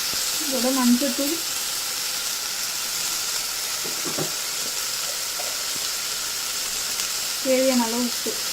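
Tomatoes and turmeric sauté in a pan for horse gram sambar with a steady, close hiss of sizzling, broken by brief bits of voice near the start and end.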